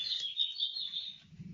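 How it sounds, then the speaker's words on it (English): A bird clock plays a recorded bird call, a steady high chirping warble in a quiet room during a stamping craft session, fading toward the end. "Oh, there's my bird clock."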